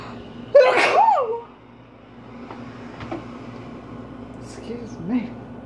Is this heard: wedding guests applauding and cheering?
no